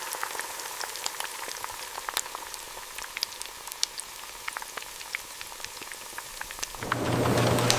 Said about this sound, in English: The shaped chips enter hot oil fryers, where they cook for just a few seconds.